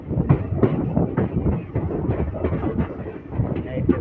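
Hubballi Express train 17320 heard from on board, a steady rumbling, rattling ride noise with faint clatter throughout, fairly close and continuous.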